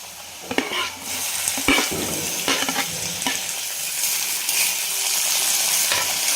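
Tomatoes cooking in a pan with sago for sabudana khichdi, a loud close frying sizzle broken by repeated spoon-stirring scrapes and clinks, no talk.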